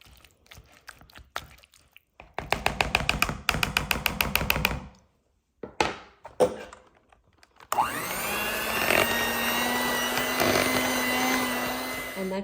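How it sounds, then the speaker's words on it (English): An electric hand mixer whips mashed potatoes after a burst of rapid knocking and tapping, its loud continuous motor whir taking over for the final seconds. "we're going to mix it all up with our mixer until it's all combined"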